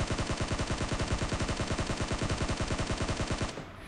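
Rapid automatic M16 rifle fire in a battle-royale mobile game rattles out in a fast, even stream of close, loud shots for about three and a half seconds, then stops abruptly.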